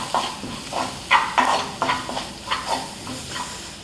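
Kashmiri chili powder, ground coriander and ginger-garlic paste sautéing in a pan for chicken kondattam, a steady close sizzle broken by repeated scraping stirs of the spoon at an even rhythm.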